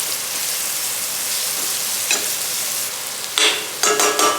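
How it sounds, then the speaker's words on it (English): Crushed spices and garlic sauteing in a pan for lamb pulao, a steady close sizzle with a few sharper stirring scrapes and bursts toward the end. "Mix that in and let it saute for a few seconds or until it's fragrant."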